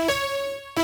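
Dry synth and piano chord layers with no effects applied hold a single sustained chord for most of a second, then cut briefly before the next chord starts, plain and moderately loud with no voices.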